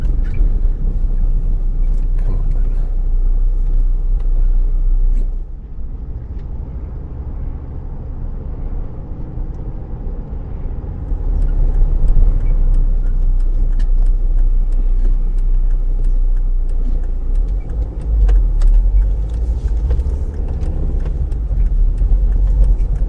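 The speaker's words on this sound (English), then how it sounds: "Doors opening, car pulling out." A car pulls out and drives along a suburban street with cars parked on both sides, heard from inside as a loud, steady engine rumble with a brief dip and swells as it gathers speed.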